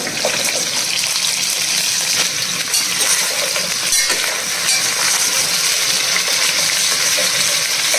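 Carrot pieces tossed into a hot frying pan for sambar, giving a steady, loud hiss and crackle of sizzling oil with faint clinks, continuous throughout with no speech.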